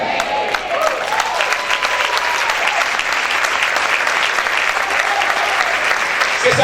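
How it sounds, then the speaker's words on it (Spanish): A church congregation claps loudly and continuously in praise to the Lord, a dense, close roar of hands with crowd noise filling the entire span. "Si ese aplauso es para el Señor, déselo fuerte"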